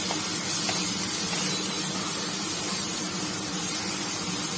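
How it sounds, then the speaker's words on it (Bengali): Spice paste of turmeric, cumin, coriander and chilli powder frying in oil for a Bengali egg curry, giving a steady broadband sizzle and hiss that runs unbroken throughout with no talking. "এবার এই মশলাটাকে ভালো করে ভেজে কষে"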